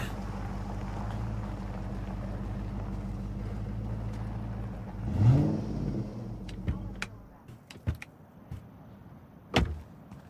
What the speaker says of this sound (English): there's her truck